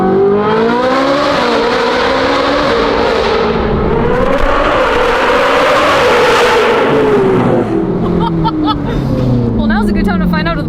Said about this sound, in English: This sounds like a freaking F1 car